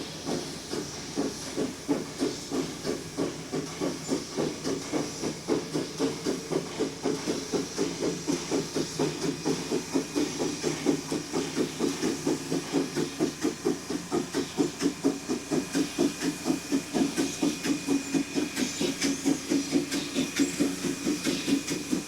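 Steam locomotive at Mt Rainier hissing and chuffing in a steady rapid rhythm, the regular pulses of steam continuing evenly at a moderate distance.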